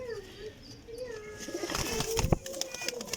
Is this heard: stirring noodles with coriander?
no